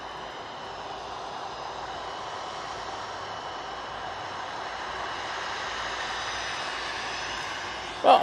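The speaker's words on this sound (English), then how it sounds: "we're going to ignore the Aer Lingus A320, which is coming in now" An Aer Lingus Airbus A320 jet comes in to land at Manchester Airport, a faint, steady engine whine and hiss in the distance that swells slightly near the end.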